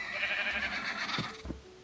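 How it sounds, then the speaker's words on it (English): Sheep bleat in the Minecraft video game, a couple of short close bleats over a dense steady game background, with no talk. "Hello, Sheep Tracy"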